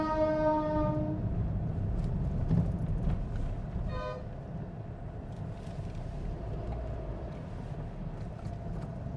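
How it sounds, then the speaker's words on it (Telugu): A Vande Bharat express train on the Visakhapatnam–Secunderabad route rushes past on the left with a steady rolling roar, sounding a loud horn blast at the start and a shorter toot midway, close by and continuous. "మనకి left side Vande Bharat train వెళ్తుందండి"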